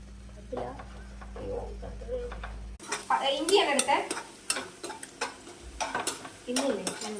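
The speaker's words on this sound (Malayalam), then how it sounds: "മൊമോസിന് വേണ്ടിട്ട് നമ്മള് സോസ് ഉണ്ടായിക്കൊണ്ടിരിക്കുക" Tomato and mint sauce for momos stirred and sizzling in a home kitchen pan, with a spoon scraping in bursts over a steady frying hiss; a few voices talk nearby.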